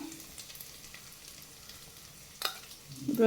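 Rice with masala and ghee fries in a pan as a soft, steady sizzle, broken near the end by a sharp scrape and clatter of stirring, close and without talk.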